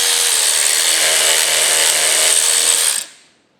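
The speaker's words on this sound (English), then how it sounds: "So we're having to ream it to make it fit." A taper pin hole on a Monarch lathe is reamed with a number 6 reamer, a loud, steady, whining machine grind up close that cuts off abruptly and fades away near the end.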